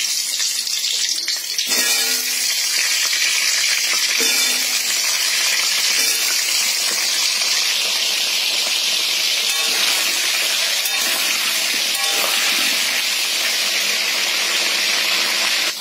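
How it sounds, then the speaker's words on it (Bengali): Cut potato pieces in hot oil give a loud, steady, hissing sizzle that runs without a break, with a few faint clinks and bubbling pops underneath. "তেলটা গরম হয়ে গেছে, এবার তেলে আমি কাটা আলুর টুকরোগুলো দিয়ে দিলাম।"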